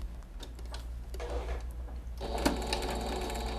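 A sewing machine stitches a mustache-shaped pillow in short close bursts, with rapid mechanical whirring and ticking broken by brief pauses.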